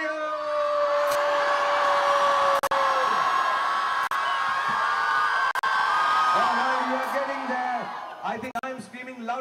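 A large crowd of fans at a film trailer launch screams and cheers in a sustained, loud roar with whoops and yells, broken by a few brief dropouts and tapering near the end.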